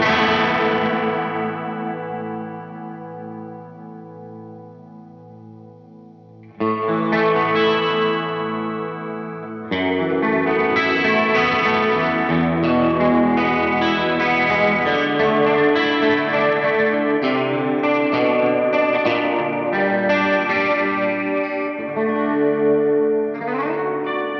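Electric guitar chords and melodic picking through an Echophyx Chorus Vibrato pedal with a shimmering, wavering chorus effect, a sustained chord ringing out before busier playing continues, no voices.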